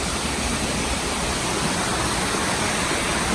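A creek waterfall rushing steadily, dense broadband roar filling the whole stretch at constant loudness, close and continuous with no voices.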